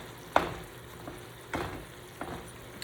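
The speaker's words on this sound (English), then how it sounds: "you just want to keep breaking up the meat" Taco meat is broken up in a non-stick skillet: a spatula scrapes and taps the pan three times at spaced intervals over a steady soft sizzle.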